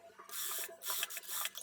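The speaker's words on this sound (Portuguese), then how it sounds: "E agora eu vou lá para a máquina reta" A straight-stitch sewing machine runs along a neckline seam of a dress, in two or three short, close bursts of rapid whirring stitching separated by brief pauses, with no talk.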